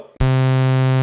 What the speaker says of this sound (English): Pulse wave.